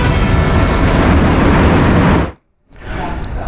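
A large explosion from an Iranian missile strike in the greater Tel Aviv area: a loud, sustained broadband roar rumbles for about two seconds, cuts off abruptly into near silence, then a fainter rumble returns.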